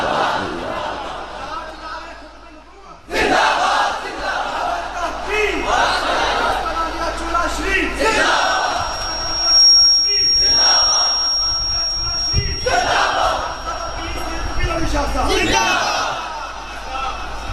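A large crowd chants religious slogans in loud repeated bursts, each surge rising together and then dropping back, alternating over and over with brief gaps between the waves of voices.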